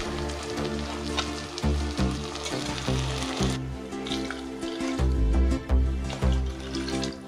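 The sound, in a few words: pouring water onto rice for pulao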